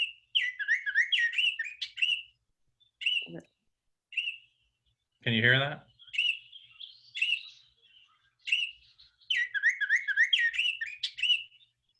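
A recording of bird song plays back in repeated bursts of clear whistled chirps and tweets with short gaps between phrases, while a person briefly speaks partway through.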